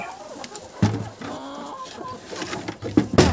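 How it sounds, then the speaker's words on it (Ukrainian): A hen clucks in a backyard poultry coop, close and moderately loud, a series of short throaty clucks and a drawn-out note, with other faint bird sounds and rustling around it. "тут поки що курочка сидить"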